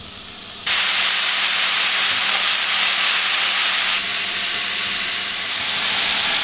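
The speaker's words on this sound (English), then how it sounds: "to start browning our beef, so we're going to turn the eye on high" Ground beef, about a pound and a half, sizzles in a pan on a burner turned to high. A loud, steady hiss and crackle sets in after a brief quiet start and continues without talk.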